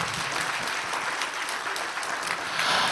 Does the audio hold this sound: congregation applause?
yes